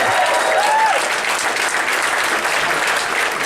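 Audience applause for a DJ at a comedy show: a dense, steady wash of many hands clapping, loud and sustained throughout with no pauses.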